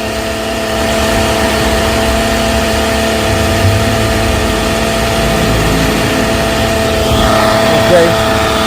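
Car engine with a bad alternator runs at a steady idle, a close mid-pitched hum with a faint whine on top, while someone talks briefly over it.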